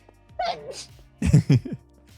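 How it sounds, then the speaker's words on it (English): A single sharp sneeze bursts out close to the microphone, preceded by a brief vocal sound and followed by a short second exhale. "I'm gonna sneeze."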